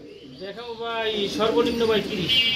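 Several pigeons in a large flock of about seventy pairs coo in overlapping, rising and falling calls close by, with someone speaking over them.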